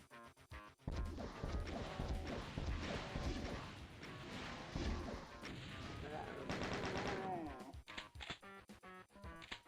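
Rocket launcher fire in the Ultimate Doom shooter, episode Thy Flesh Consumed: dense, loud run of blasts and crashing impacts with game effects, ongoing for most of the stretch, then breaking into sparser hits near the end.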